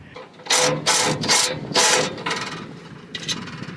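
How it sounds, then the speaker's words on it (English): Metallic ratcheting and wrench clicks come from a 13mm bolt being loosened on a Ford 5.4 transmission, heard as four or five loud, close bursts with short pauses and a fainter final burst. "right now we're gonna remove the 13mm bolt that is left right there"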